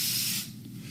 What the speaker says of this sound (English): We then take our aerosol, spray the surface, and you see